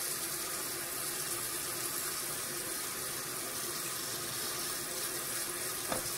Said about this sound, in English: Cutting board getting cleaned off right now.